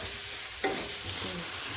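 A tadka of spices sizzles in a hot pan, with a sharp burst of frying as something lands in the oil, then a crackling, stirred sizzle close by, brief and without talk.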